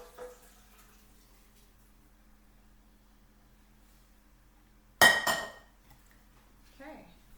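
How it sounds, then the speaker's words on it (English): Pots clink as ham and bean soup is transferred into a larger pot, a single loud metallic clatter after a long quiet stretch, with a brief faint voice at the start and again at the end. "We're gonna transfer this into a larger pot"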